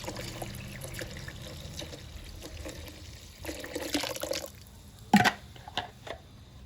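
Water is poured into a pot of sambar as it cooks: a short, soft splashing pour midway through, with a brief louder splash after it, against a quiet background.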